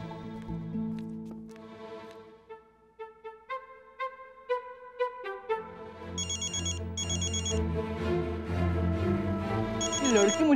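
A phone ringtone plays a bright melodic tune, then a louder repeating electronic ring pattern continues, several cycles close by.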